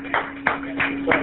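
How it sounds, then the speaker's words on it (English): A small audience at a live show at a barbecue restaurant in Bethesda, Maryland, claps sparsely in four distinct, evenly spaced claps over a steady background hum. "Can I get some claps?"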